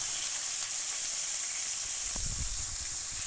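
Monkfish skewers sizzling on a hot griddle, a steady bright hiss throughout with a brief burst of crackling and popping near the end.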